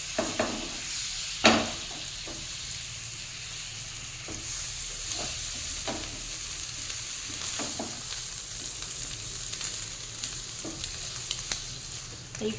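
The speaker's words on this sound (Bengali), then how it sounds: "দেখুন ভাজার সময়তে একটা সাইডেই চলে আসে, বারবার উল্টে পাল্টিয়ে ভাজতে হবে।" An egg and cheese paratha frying in butter in a flat frying pan, with a steady close sizzle and occasional sharp scrapes and taps as it is turned and pressed, one louder knock early on.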